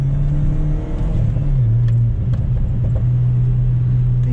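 A remapped Chevrolet Astra 2.0 with a 127 hp engine drones loudly while driving, its engine note dipping and then holding steady in a close, continuous rumble.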